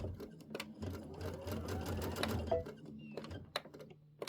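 A sewing machine stitches quilt fabric slowly in a quiet room, its needle tapping in a soft, even run that pauses briefly and restarts, with faint handling noises.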